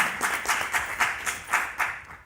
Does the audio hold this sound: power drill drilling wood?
no